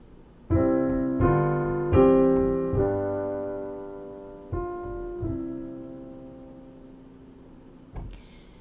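A bass line harmonized with a progression of sustained chords, each struck cleanly and left to ring and fade, with a final short chord after a pause.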